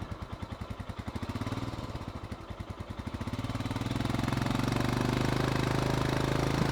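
A Royal Enfield Himalayan motorcycle on a commute: steady thumping single-cylinder pulses at first, then the engine note rises and smooths into a louder continuous drone as it picks up speed, close and without talk.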